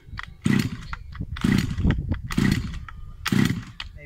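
Small engine fitted with a Baja carburetor being pulled to start, giving four loud, rough sputtering bursts spaced about a second apart, each dying out without catching.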